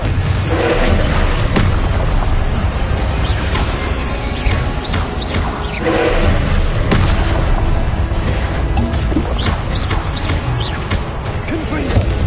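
Repeated Confringo fire-spell explosions in Hogwarts Legacy mid-combat, loud booms and crashing impacts recurring every few seconds over dense game noise and music.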